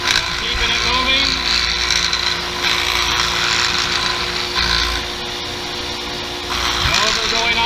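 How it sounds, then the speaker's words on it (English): An electric sander works a flat piece with light pressure, a steady close whine and broadband rasp running through the clip, dipping briefly near the end. "I come in with light pressure, keeping it moving, sanding down to my line."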